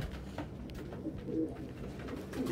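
Soft, low cooing of pigeons settling in a loft at dusk, a faint, steady murmur of several birds nearby without any voices.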